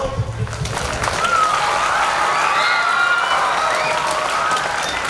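A crowd of children claps together in sustained applause, a dense, loud patter with voices mixed in and a few shouts rising above it.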